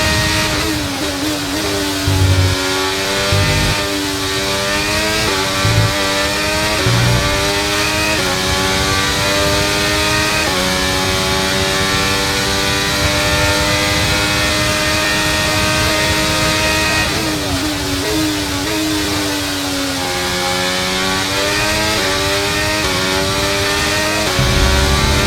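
Race cars roar through the final laps of a race, engines revving loudly and continuously with rising and falling pitch as they pass close by, with no talk over the din.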